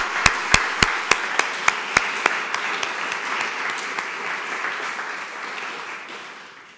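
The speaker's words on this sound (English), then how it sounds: "Please join me in applauding their efforts." At a graduation ceremony, a few sharp, loud claps ring out at first, then a wider audience joins in with steady applause that gradually thins and fades.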